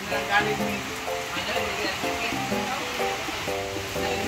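Steady rain falls on a surface in a constant, even hiss. Faint music and background sounds run underneath, and nothing else stands out.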